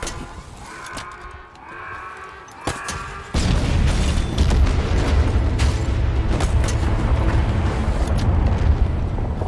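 Banished guns in the Halo Infinite video game firing, a deep rumbling boom after some quieter scattered impacts, then sustained loud low-frequency roar and blasts continuing to the end.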